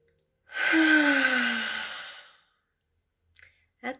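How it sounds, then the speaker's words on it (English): Slow deep breath drawn in and let out as a long, loud sigh with a falling voiced tone, followed by silence and two brief soft breaths at the end. "Take a deep breath in."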